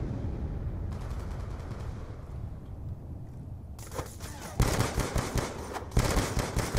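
Black Ops 2 gunfire: a light burst of automatic shots early on, then heavier, rapid machine-gun bursts crackling close and loud in the second half over a low rumble.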